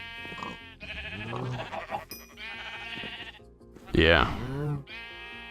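Sheep bleating in Minecraft's FTB Beyond modpack, several loud harmonic bleats in a row, the last one strongest, with a voice briefly speaking between them.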